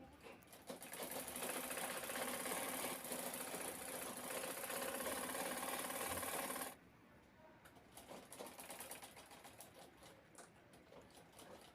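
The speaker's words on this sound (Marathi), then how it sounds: "इथे बॅगची दुसरी साईड शिवून घेत आहे" Sewing machine stitching the side seam of a bag made from an old gown, running steadily and close for about seven seconds, then stopping and leaving quieter handling noises.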